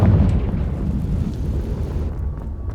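A Confringo fire spell explodes in the Hogwarts Legacy video game with a loud, deep, rumbling boom that rolls on as a low roar before thinning out near the end, with no talking over it.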